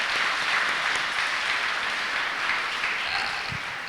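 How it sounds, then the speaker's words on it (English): At a Malaysian forum on freedom of religion, an audience gives a speaker a round of applause, a steady, dense wash of clapping throughout that fades slightly at the end. "let's give him a big round of applause"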